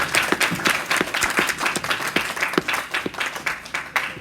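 Audience members at a women's conference clap their hands together in a brisk, rhythmic unison beat, close and lively, with sharp regular strikes running throughout.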